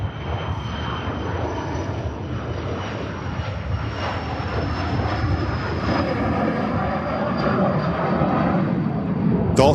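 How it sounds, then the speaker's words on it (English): Ambulance aircraft taxiing at Manchester Airport, a steady loud engine roar that holds throughout and builds slightly toward the end, with no talk over it. "So this is quite a rare plane actually on the move."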